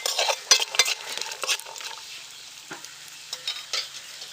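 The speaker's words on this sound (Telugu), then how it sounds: "స్పూన్లో నెయ్యి వేసానండి జీడిపప్పు వేస్తున్నాను" Cashews fried in a spoonful of ghee for rava laddu, with soft sizzling and brisk spoon scrapes and clinks against the pan in short bursts, close and fairly loud, no voices.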